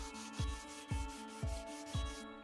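Hand sanding a scratched wood piece with 80 grit sandpaper, four steady rasping strokes along the grain at an even rhythm, close and alone.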